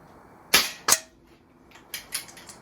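An SMK PR900W budget PCP air rifle fires two sharp, close cracks in quick succession, followed by several fainter clicks and taps in a quiet setting.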